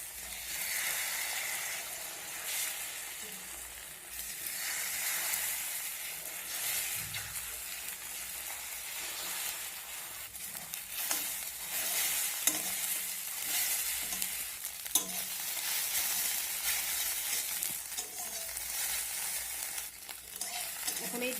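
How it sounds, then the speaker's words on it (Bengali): Beaten egg sizzles in hot mustard oil in a wok-style pan while it is stirred and broken up, a continuous crackling fry with scattered scrapes and taps of the spatula. "এখন এই ডিমটা আমি ঝুড়ো ঝুড়ো করে ভেজে নেব।"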